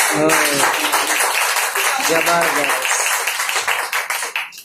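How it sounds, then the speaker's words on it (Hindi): An audience claps continuously, a dense, loud wash of hand claps that tapers off at the end, with a voice talking over it in places. "देखने के बाद तालियां कुछ कम बजती है,"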